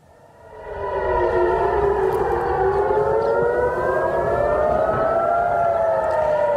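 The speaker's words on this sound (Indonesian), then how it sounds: "Sirene meraung saat Israel dan Iran saling serang untuk pertama kalinya sejak gencatan" Air raid sirens in Jerusalem rise from quiet into a loud, sustained wail, several overlapping tones slowly bending up and down in pitch and continuing without a break.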